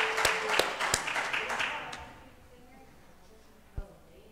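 A church congregation at a Sunday morning service applauds and cheers a substitute singer, with a burst of clapping and whoops that fades after about two seconds into quiet room tone, then a single sharp knock.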